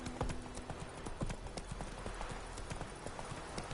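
Hoofbeats of Roach, Geralt's horse in The Witcher 3, galloping in a steady rapid clip-clop rhythm, close and fairly loud over a faint outdoor game ambience.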